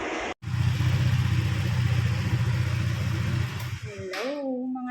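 A motorcycle engine runs steadily up close as it is ridden home through traffic, a loud buzzing drone broken by a brief cut at the start, then fading as a voice speaks at the end.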